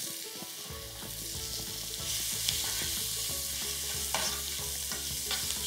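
Onion with black pepper and cinnamon sticks sautéing in a pan, a steady close sizzle with occasional stirring scrapes and clicks, no voices.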